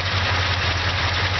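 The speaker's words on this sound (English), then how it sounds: "A lot of exhaust leak under the hood" A truck engine with an exhaust leak under the hood idles steadily nearby, a loud low rumble with an even pulsing throb and no voices.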